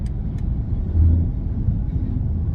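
A 2024 BMW i5 M60 electric sedan accelerates on a road test, a steady low rumble of tyres and road noise with a faint electric whir, swelling slightly as it pulls, heard from inside the cabin.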